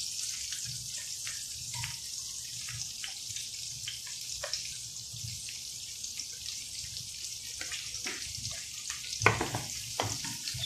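Garlic frying in extra virgin olive oil in a pan for Filipino-style gambas al ajillo, a soft, steady sizzle with scattered light pops and a few clinks of stirring, no voices.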